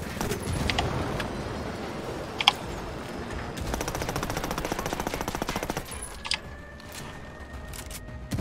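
Gunfire in Ghost Recon Wildlands: distant shots crackle over a steady rumbling background, with a sustained rattling burst in the middle and a few isolated louder cracks, all moderately faint.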